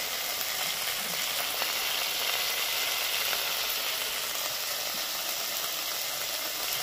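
Cumin, coriander and spices fry with salt in a pan for a Bengali katla fish curry with ridge gourd, a steady dense sizzle that holds evenly throughout without any talk.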